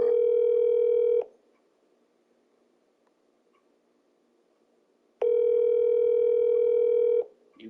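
Outgoing phone call ringback, two long steady electronic tones separated by a silent gap of about four seconds, clear and close with no talk over them.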